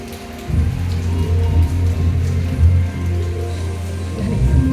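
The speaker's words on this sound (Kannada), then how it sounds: "ಇಲ್ಲಿ ನೋಡಿ, ಬಿಸಿಲು ಮತ್ತು ಮಳೆ ಬರ್ತಾ ಇದೆ." Rain falls in sunshine, a steady close wash of drops pattering on a surface with a low rumbling undertone throughout, no voices heard.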